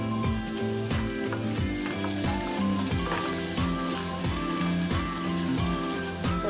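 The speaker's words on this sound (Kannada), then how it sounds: "ಇದು ಸ್ವಲ್ಪ ಚೆನ್ನಾಗಿ ಫ್ರೈ ಮಾಡ್ಕೋಬೇಕು ಸ್ವಲ್ಪ ಎಣ್ಣೆ ಹಾಕೊಳ್ಳೋಣ ಬೆಳ್ಳುಳ್ಳಿ ಶುಂಠಿ" Garlic and ginger frying in oil in a pan give a steady, close sizzle that runs without a break, with a rhythmic thumping pattern running underneath.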